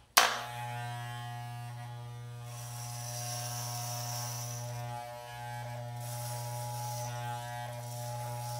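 Electric hair clippers fitted with a number 4 guard trim a beard with a steady, close, loud buzzing drone that continues almost unbroken for several seconds, dipping briefly as the blades pass through the hair.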